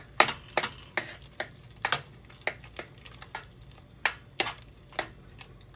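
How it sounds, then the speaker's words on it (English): Minced chicken is stirred in a pan with a utensil, giving a string of sharp scrapes and clinks against the metal at an uneven pace, close and clear with no talking. "now we're going to add our minced chicken. We're going to give that a good stir"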